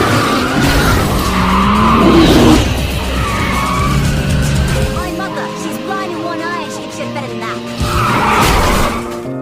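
A car drifts with tires skidding and squealing in long, loud sweeps over engine roar, in a drift-racing scene from the film Tokyo Drift, while a voice talks over much of it.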